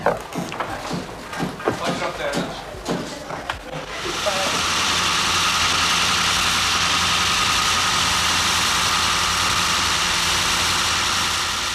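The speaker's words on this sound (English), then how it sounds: "This cropping machine, which weighs over 30 tons, was brought across from Scotland in the 1950s" A 30-ton carpet cropping machine brought from Scotland in the 1950s, running in a Donegal carpet factory: after a few seconds of clattering handling and voices, a loud steady mechanical drone sets in and holds.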